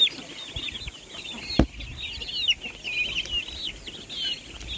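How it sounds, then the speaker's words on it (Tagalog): Chickens and small chicks being fed corn cluck and peep steadily nearby, high chirps layered over low clucking, with a sharp knock partway through. "Pero gutom yung mga malalaking manok."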